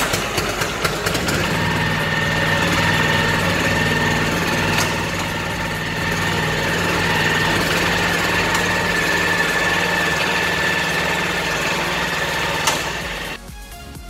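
The engine of a Balsan ESP-R10 suction-type bean thresher runs while the machine is driven along, a loud, steady mechanical drone that holds evenly for around thirteen seconds before dropping off at the end.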